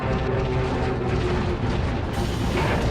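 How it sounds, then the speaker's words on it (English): Explosions in the Toy Story 3 video game junkyard level, a dense, continuous rumbling blast-and-debris wash that stays loud across the whole stretch, with a fresh surge of crashing noise near the end. "the explosions are quite satisfying and quite fun"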